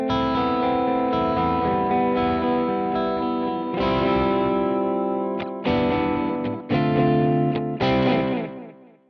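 An electric guitar runs through a Plini-style delay set to 250 milliseconds, its distorted chords trailing quick repeats and a wash of ambience, several strummed phrases cut by short gaps near the end.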